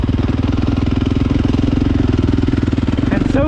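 A 2022 KTM 450 SX-F Factory Edition motocross bike ridden on a dirt track, its engine loud and close with a fast, even pulsing throb throughout, alone without talk.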